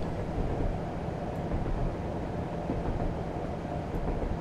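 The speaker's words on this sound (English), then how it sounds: "This train's actually slowing down pretty well, to be honest." A Class 37 diesel train slows on the Wherry Lines between Norwich and Great Yarmouth in Train Simulator 2016, giving a steady, heavy rumble of engine and wheels on track with no voices.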